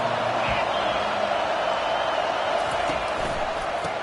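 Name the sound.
football stadium crowd noise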